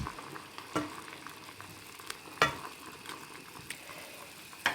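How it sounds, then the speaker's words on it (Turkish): Dried zucchini boils in a pot, bubbling and simmering softly, with a steady low seething broken by a few sharp clinks of a utensil against metal. "Kabak kurusunu haşlıyoruz."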